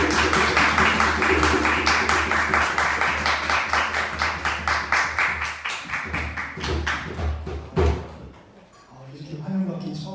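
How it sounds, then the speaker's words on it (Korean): A church congregation at a Sunday worship service claps in loud, even rhythm to welcome the pastor, a sustained run of regular claps that breaks off near the end before voices resume. "그래서 나오실 때 큰 박수로 환영하도록"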